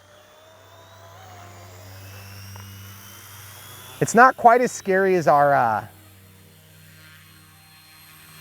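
Small Eachine E160 RC helicopter hovering close by with a steady, faint rotor whine and hum running throughout, while a person talks briefly over it partway through.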